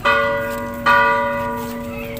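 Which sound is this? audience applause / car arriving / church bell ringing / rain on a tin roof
church bell ringing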